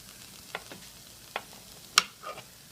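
Butter being cut and stirred in a frying pan, a few sharp scrapes and taps of the utensil against the pan over a faint, steady background, with a brighter clink near the end.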